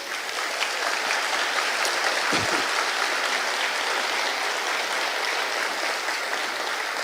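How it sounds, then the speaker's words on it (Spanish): Sustained, even applause from a closing plenary round-table audience at the XVI CIAEM conference fills the full stretch, loud and dense, with no clear voices rising above it. "un aplauso para los panelistas"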